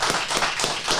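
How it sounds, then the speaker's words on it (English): Applause from an audience at a real estate and mortgage strategies session, a dense steady patter of many hands clapping close by with no talking over it. "Let's have a big applause here,"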